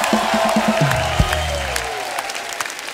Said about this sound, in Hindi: आइए, जोरदार तालियां हो जाएं सुधा जी के लिए।